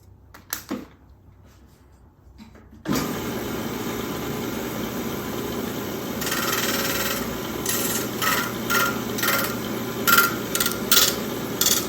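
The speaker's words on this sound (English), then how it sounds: "I'm going to be sanding those little points off" Steady, continuous rasping of sandpaper sanding small points off wooden guitar bracing for a 00-28 acoustic, close and fairly loud, with rhythmic bursts of harder strokes in the second half after a quiet start.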